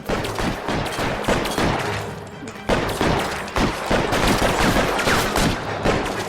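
Sustained rapid gunfire in L.A. Noire, loud and close, with repeated sharp shots in dense bursts that pause briefly midway and then resume.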